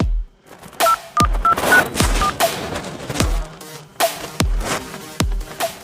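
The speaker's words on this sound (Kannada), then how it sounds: "ನಮ್ಮ ಅಣ್ಣ ಅದನ್ಲ ಅಗ್ನಿ IPS ಅವಂಗ ಫೋನ್ ಹಚ್ತೇನೆ" Telephone keypad dialing tones, a series of short distinct beeps in irregular rhythm, loud and close, with sharp clicks between them and no talking.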